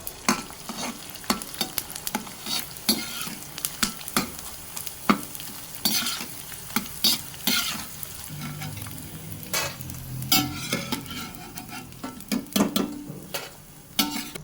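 Edible gum frying in hot oil for a karadantu sweet, a continuous close sizzle broken by frequent sharp stirring ticks and scrapes.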